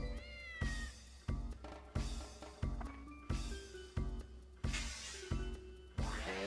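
A cat meows in the video game Dark Cloud, with a string of loud, repeated calls arriving in a steady rhythm and no talking.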